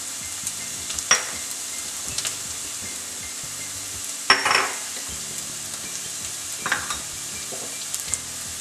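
Spices dropped into a pan of browned onions crackle and sizzle up close, with a few louder bursts of frying and light clinks of a utensil against the pot.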